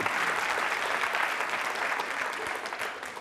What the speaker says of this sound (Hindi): तालियां जोरों से, ताली जोरों से बजाइए जोरदार तरीके से।